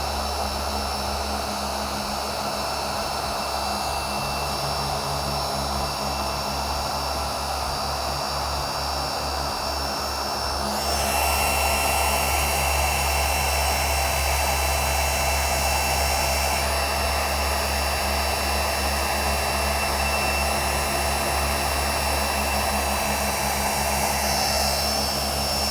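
A Rupes HLR15 rotary polisher runs at speed setting 5, a steady, loud whir close by that stays level throughout, getting slightly louder and brighter about halfway through.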